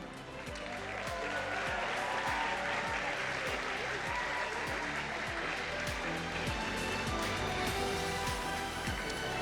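An audience applauds steadily as a managing director is welcomed onto a stage at a scholars' event, a sustained, even wash of clapping from a large crowd, fairly distant and continuous.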